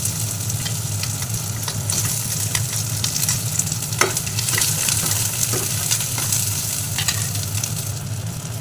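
Onions sizzling in a hot pan while cooking vegetable egg kachori filling, a constant bright frying hiss with occasional stirring scrapes and clicks throughout, loud and close with no talking.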